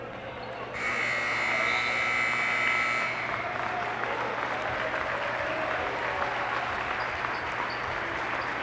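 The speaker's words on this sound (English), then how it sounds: "And the team is applauding" Sustained applause and crowd noise fill a gym at a high school basketball game, Saint Peter's Prep versus Oratory Prep in the NJSIAA tournament, with a buzzer sounding for the first few seconds before steady clapping continues alone.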